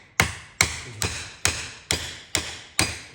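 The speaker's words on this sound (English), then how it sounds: "Just tap the seal out." An oil seal being tapped out with a screwdriver on a drive shaft housing, seven sharp, evenly spaced metallic knocks close by with no talk.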